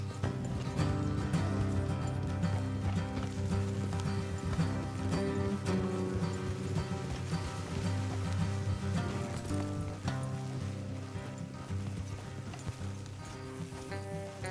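Horse hooves clip-clop in a steady rhythm beneath continuous music in the video game Red Dead Redemption 2, the hoofbeats fairly soft and partly masked.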